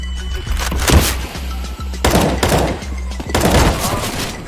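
Counter-Strike: Global Offensive decoy grenade faking gunfire: three loud bursts of simulated shots at roughly one-second intervals, each a sharp crackling volley with thuds, fairly close.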